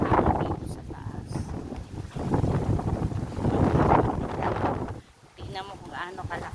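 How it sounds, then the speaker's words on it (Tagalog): Strong wind buffeting the microphone in heavy gusts on a rooftop garden, rising and falling, with a person talking over it. "Tingnan mo kung gaano kalakas ang hangin."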